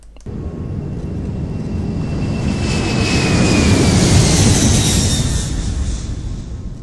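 A rocket roars past in a physics animation of special relativity, a loud jet-like rush that swells to a peak midway and then begins to fade, heard alone without talking.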